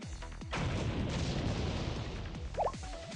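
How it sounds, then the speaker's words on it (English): A booming explosion in the Blue Archive video game bursts out loud and heavy, then rolls into a long rumbling crash that lingers for a couple of seconds before fading, with small game sound effects around it. "Was that an explosion?"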